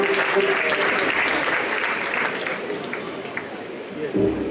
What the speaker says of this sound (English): I want to ask the students to give a round of applause to the Pro-Chancellor